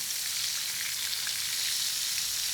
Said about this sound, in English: we're still looking for the sizzle